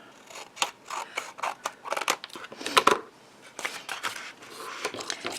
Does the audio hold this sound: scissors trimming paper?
yes